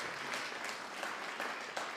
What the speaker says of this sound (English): Big round of applause for Evelyn Aguilar Ramos